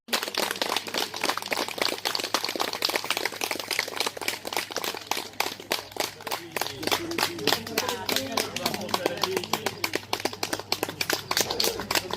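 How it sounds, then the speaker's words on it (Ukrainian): Villagers in a rural village welcome a soldier home from captivity with sustained, dense clapping, close and lively for the whole stretch, with voices mixed in. "Щирими оплесками Юрія Зинича у своїй рідній"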